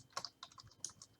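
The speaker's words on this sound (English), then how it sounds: "let's say that you start typing in" Keystrokes on a computer keyboard while entering text into a fillable PDF form, a quick burst of separate, close clicks in an uneven rhythm with short pauses, no voices.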